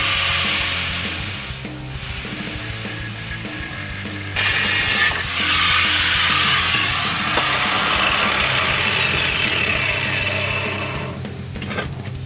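Mini bike exhaust pipe being cut in a workshop with a power tool, a loud, close, steady grinding and whirring that intensifies midway and continues for several seconds.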